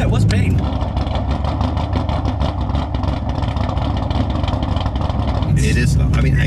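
A cammed Corvette engine revs hard, its loud rumbling exhaust steady for several seconds with people talking over it near the end.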